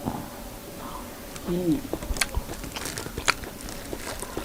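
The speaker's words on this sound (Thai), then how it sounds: "เคี้ยวมันครับพี่น้อง" Someone bites and chews grilled pork close to the microphone, with a short run of crunchy bites and mouth noises over a faint hum.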